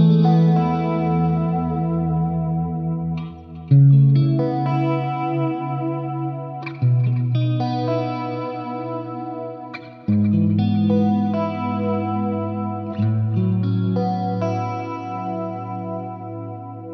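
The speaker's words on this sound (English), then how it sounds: "with the reverb at the end, it'll be a nice big reverb." Sustained clean electric guitar chords ring out one after another through a Fractal Axe-FX, each new strum blooming into a wide, shimmering wash of delay and a long large-hall reverb.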